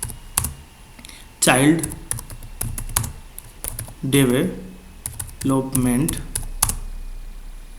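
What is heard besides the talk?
typing on a computer keyboard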